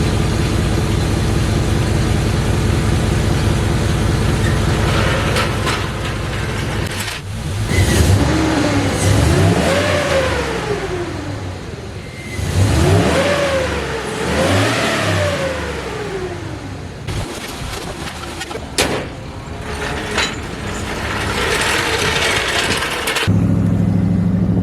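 A Chevrolet Suburban fitted with a new muffler revs repeatedly, its engine note rising and falling in several loud, close sweeps over a steady rumble, with no talking.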